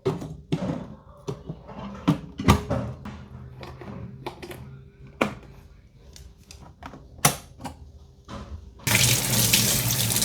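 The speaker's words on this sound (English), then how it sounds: "Slowly plucking each leaf of the sweet leaf vegetable, I pick out the withered leaves, discard the hard stems, and wash them clean." Tap water running into a sink while sweet leaf vegetables are washed in a tiny room in Vietnam, with intermittent clatter and splashing that swells into a steady, louder stream of water near the end.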